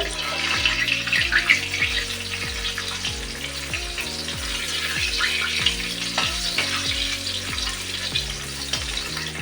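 Onions and spices frying in a pan for a curd-based mutton curry give a steady close sizzle, with repeated low clinks and scrapes of stirring throughout and no talk.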